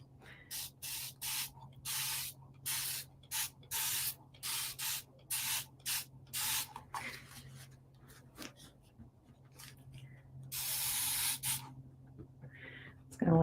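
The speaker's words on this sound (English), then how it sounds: "And spray this one up here." Liquid sprayed onto pleather for decoupage gives about a dozen short, sharp, close spray bursts in a steady rhythm, then a few longer hisses, over a low background hum.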